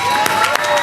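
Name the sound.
audience applause for the police officers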